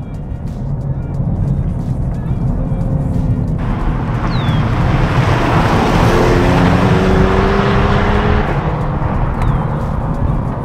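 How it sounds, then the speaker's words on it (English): A Genesis G70 Sport AWD engine revs loudly through a downshift from inside the cabin, a continuous rising roar with a broadband surge midway, then settling back to a steady drone. "Let's do a little downshift here."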